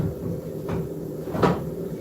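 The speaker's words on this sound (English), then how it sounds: "open up the windows in here a little bit" Two soft knocking thuds of a shop window being opened, the second louder, close by over a low background hum.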